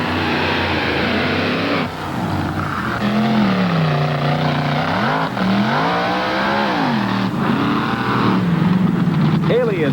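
Race trucks launching off the line at the start of a 1988 drag race, engines roaring and rising and falling in pitch through gear changes, loud and continuous, with an announcer talking over them.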